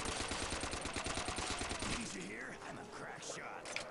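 Rapid automatic fire from an STG assault rifle in a zombie video game, a dense burst of sharp repeated shots for about two seconds, then breaking off into scattered clatter and mechanical noise.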